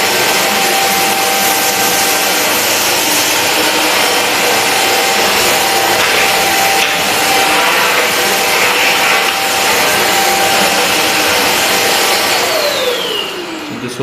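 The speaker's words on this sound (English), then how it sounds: "Let's see how this vacuum cleaner works on that." Loud, continuous whooshing roar of an Inalsa Ozoy Premium vacuum cleaner sucking up lentil grains, with faint gritty rattles of grains mixed in, running steadily before winding down at the end; no talking.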